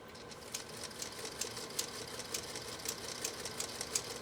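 A Singer Featherweight sewing machine stitches through two layers of genuine cowhide leather, producing a steady run of quick, faint mechanical ticks and clatters.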